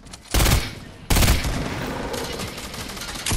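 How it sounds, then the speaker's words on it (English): Rapid minigun fire in the Fortnite video game, loud close bursts that cut in and out, starting abruptly, pausing briefly, then roaring steadily before a fresh loud burst at the end. "I'm shooting Mega"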